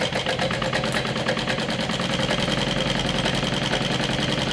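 A sewing machine runs continuously at an even pace, stitching the bottom raw edge of a fabric pouch. Its motor gives a steady mechanical hum with a fast repeating needle rattle, loud and close, with no talk.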